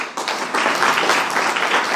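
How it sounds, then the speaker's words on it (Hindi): Audience applause at a network marketing seminar in India, a steady dense wash of clapping from a crowd, loud and continuous throughout. "एक बार जोर से तालियां हो जाए."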